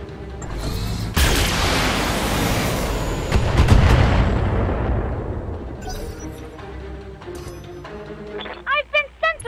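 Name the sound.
shredder turret firing in BattleTech video game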